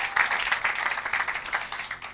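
A church congregation claps and applauds together, a dense, continuous burst of hand claps from a crowd, fairly loud and close, lasting a couple of seconds.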